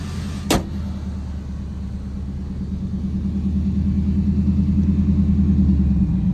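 A 2003 Ford F150 SVT Lightning truck's engine idles steadily in cold weather, a deep, even rumble with a pulsing low throb that grows slightly louder, after a brief sharp click near the start.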